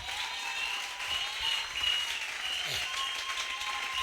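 A church congregation applauds the preachers in a steady, roomy wash of clapping that holds for a few seconds at moderate distance.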